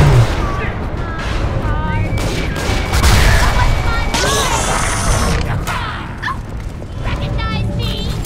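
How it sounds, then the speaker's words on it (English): Explosions in BioShock 2 blow apart a group of splicers, making a loud, dense stretch of overlapping blasts, crashes and clattering game effects that continue without a break. "there's three splicers over there, talking it out. But we're gonna just blow them up."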